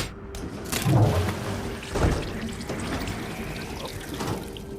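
Water steadily hisses and splashes from a pipe punctured with a screwdriver in Hitman 3, a continuous trickling spray with a few louder surges and no talking.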